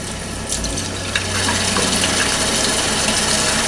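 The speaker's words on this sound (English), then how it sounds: "so let's get the water on warm." Warm tap water runs steadily into a sink for rinsing mohair dyed with human hair dye. The flow is loud and continuous and grows slightly stronger partway through.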